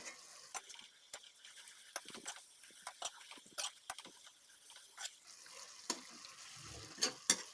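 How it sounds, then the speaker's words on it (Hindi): Green chilies stirred and fried in a pan for Kashmiri-style sochal, with sharp scraping and tapping stirring strokes over a faint soft sizzle, quiet and close, no talk. "ग्रीन चिलीज, अब हम वो इसमें ऐड करेंगे। और फिर से हम इसको मिक्स करेंगे।"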